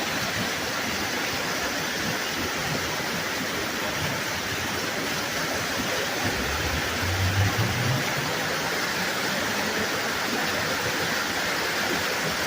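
Steady, loud rushing roar of water from a waterfall, continuous broadband noise throughout with no voices.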